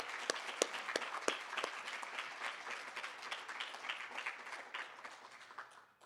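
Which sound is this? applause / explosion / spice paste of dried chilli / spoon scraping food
applause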